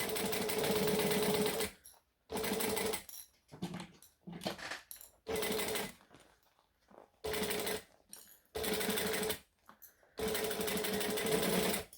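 A sewing machine stitches a seam on a crossbody bag in loud close bursts of rapid mechanical whirring, each run lasting a second or two and stopping between, with quiet handling gaps.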